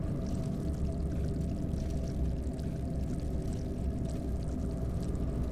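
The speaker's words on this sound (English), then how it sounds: "I don't know how I feel about that water running in the background" Water runs continuously in the background of Amnesia: The Dark Descent, a steady low rushing and pouring wash that stays even throughout with no voices.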